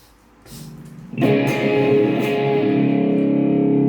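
An electric guitar heavily distorted through a Boss GT-10 effects processor strikes a sustained chord after a few muted scratches, ringing loud and gritty.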